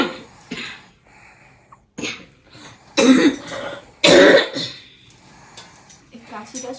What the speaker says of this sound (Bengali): কাশিটা সময় মতনই যাবে